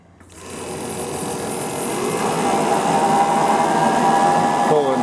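A lathe spins up and holds a steady mechanical whir while driving a Mallory distributor for a Mopar 360 engine, with a heavy duty coil wired in, loud and close throughout.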